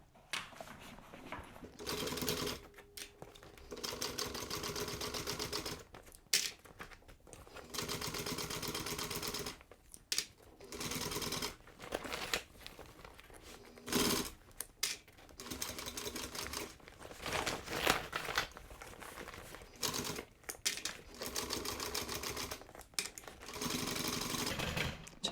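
A sewing machine stitches the gusset of a leather duffel bag in repeated start-stop runs of a few seconds each, separated by brief pauses and handling noises, with no talk.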